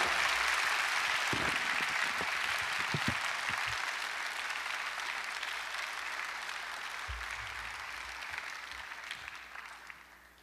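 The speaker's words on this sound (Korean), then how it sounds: "우리 뜨겁게 박수로 하나님께 영광 돌리시고" A church congregation at a revival meeting claps warmly for a pastor coming forward, a dense, steady wash of applause that fills the whole stretch and slowly tapers off toward the end.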